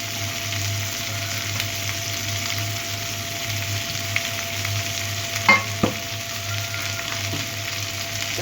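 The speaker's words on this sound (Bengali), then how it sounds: "তো এটা আমরা হালকা ভেজে নেব, বেশি ভাজবো না" Cashews, chopped ginger and green chilies fry lightly in a pan, giving a steady, soft, close sizzle with a couple of brief clinks from stirring partway through.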